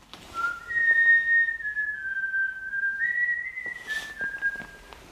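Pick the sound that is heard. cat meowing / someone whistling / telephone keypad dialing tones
someone whistling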